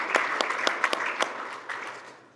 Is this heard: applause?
yes